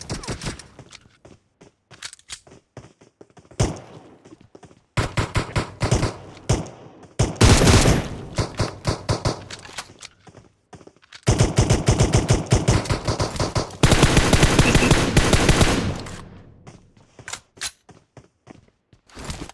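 PUBG Mobile pistol gunfire comes in bursts of rapid shots, some long and sustained, others short and sporadic, loud and close with brief pauses between.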